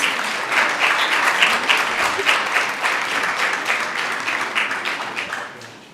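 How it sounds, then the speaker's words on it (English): An audience at a school board meeting applauds the Rangers, a dense, steady wash of clapping that runs the full length and tapers off slightly near the end. "Let's give another round of applause for the Rangers."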